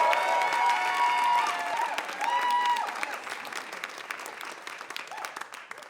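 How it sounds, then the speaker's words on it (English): A live crowd at a storytelling showcase applauds and cheers, with whooping voices rising over dense clapping early on before the ovation gradually tapers off. "let's give a huge round of applause for Saia Shamdasani."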